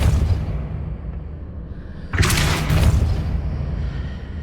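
A Depulso force spell cast in Hogwarts Legacy lands as a sudden loud whooshing burst partway through, rising over a low rumbling game backdrop and then settling into a sustained roar.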